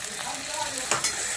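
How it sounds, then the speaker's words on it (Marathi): Garlic, ginger, coriander and coconut frying in hot oil for a chicken dish give a brief, close, steady sizzle with a couple of sharp spatula taps near the end. "आणि आता हे चांगलं तेलामध्ये फ्राय करतो"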